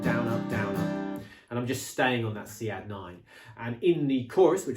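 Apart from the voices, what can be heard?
None of the usual background noises is heard.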